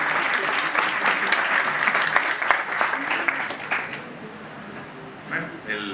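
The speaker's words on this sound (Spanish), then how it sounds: "Pido un aplauso, por favor," Lively applause from the audience at a book presentation on notaries in Mexico: dense clapping fills the room for about four seconds, then fades out as a voice begins speaking.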